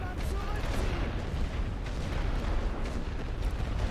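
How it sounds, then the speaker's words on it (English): Artillery in The Great War: Western Front video game pounds trenches with a continuous dense rumble of distant and mid-range blasts, steady and heavy without pause. "They're really pounding my trenches with artillery here"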